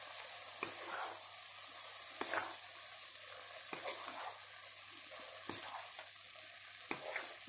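Chicken breast and sliced champignon mushrooms sizzle steadily in a frying pan, with soft scraping stir strokes roughly every second and a half; no one speaks.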